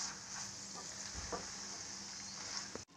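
Rajasthani sangri vegetable cooking in a pan over a low flame, with a faint steady sizzle and a few soft stirring scrapes, heard quietly without talk.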